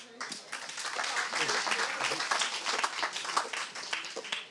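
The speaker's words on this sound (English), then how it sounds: "Y'all can clap." An audience claps in sustained applause, a dense patter of many hands that swells and holds, with some voices mixed in beneath.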